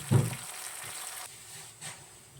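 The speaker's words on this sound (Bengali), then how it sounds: "এখন গরম পানি দিয়ে দিব।" Hot water hits a pan where foli fish fry in cooked-down spices, bursting into a loud sizzle at the start that settles into a steady, softer hiss.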